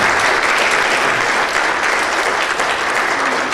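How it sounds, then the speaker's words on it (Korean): A large church conference audience bursts into loud, dense applause at night, continuous and even from start to finish with no voices standing out. "박수 한번 크게 칩시다."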